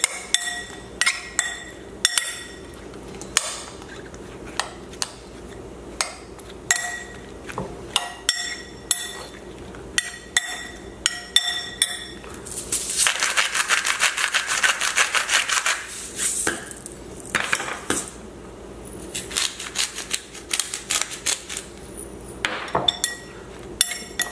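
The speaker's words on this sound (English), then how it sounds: "Mix it a little bit more for the coating goodness of the marinade on each of the pieces of squash." Summer squash pieces being tossed in marinade in a bowl, with repeated clinks and scraping of utensils against the bowl, intermittent and close, building to a denser burst of mixing midway.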